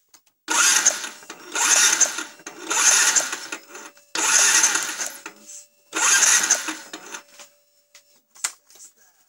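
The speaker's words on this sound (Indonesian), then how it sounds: "kita starter motor atau engkol" A Yamaha Vixion motorcycle with a dead spark plug is cranked five times in short mechanical bursts with pauses between, never catching, followed by a few faint clicks.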